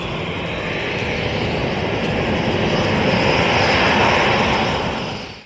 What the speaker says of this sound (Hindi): भारत का स्वदेशी लड़ाकू विमान लाइट कॉम्बैट एयरक्राफ्ट